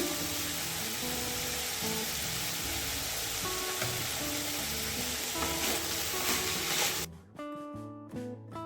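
Mixed vegetables for veg kadai sizzle steadily in a hot pan, a dense, even frying hiss that breaks off near the end, leaving faint background tones.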